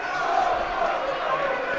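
Football fans applaud a player stepping up to take a corner kick, a steady, broad wash of crowd clapping and noise at even loudness throughout.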